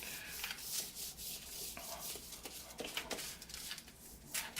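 Seasoning rub is worked by hand into a rack of ribs, giving soft, dry, scratchy rubbing strokes in an uneven rhythm, quiet and close with no voices.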